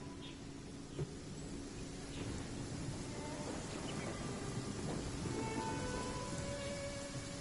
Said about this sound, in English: Rain. One way to wash off the grime.